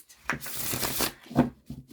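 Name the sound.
shuffling a Tabula Mundi tarot deck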